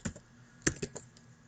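Keystrokes on a computer keyboard while entering a remove command in an Ubuntu terminal, a few soft separate clicks with a pause between them, close and quiet, with no talking.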